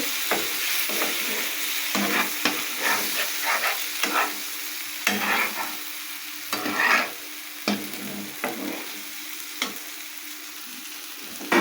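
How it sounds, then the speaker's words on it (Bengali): Spices sautéed with a splash of water in a pan while cooking egg with bottle gourd, a continuous sizzle broken by regular scraping and clinking spoon strokes, fairly close and alone without talk. "কষিয়ে নিয়ে সামান্য একটু জল দিয়ে দিচ্ছি জল দিয়ে এখন ভালোভাবে কষিয়ে নিচ্ছি"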